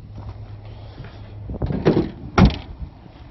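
A 2015 Nissan NV200 van door opened by its handle, giving a click and a clunk of the latch releasing about midway, then a second louder clunk shortly after, close by over a low engine-like hum.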